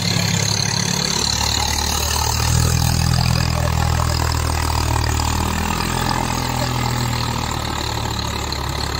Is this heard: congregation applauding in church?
no